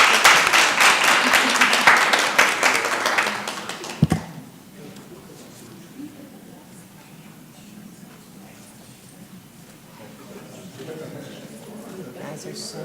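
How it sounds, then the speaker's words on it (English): Applause from a room of attendees at a city council meeting, a dense burst of clapping for about four seconds that stops abruptly, followed by quiet murmuring voices. "Let's give them another round of applause."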